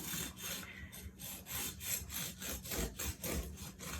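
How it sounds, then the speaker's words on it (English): Close, rhythmic rasping of a serrated knife sawing back and forth through a loaf of peanut butter bread, each stroke a soft scratchy rub, no talking. "You're actually cutting into it. Doing a sawing motion."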